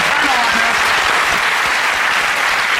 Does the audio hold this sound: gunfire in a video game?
no